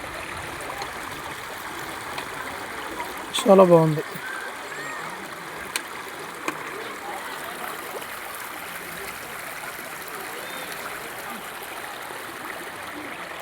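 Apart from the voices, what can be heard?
flowing stream water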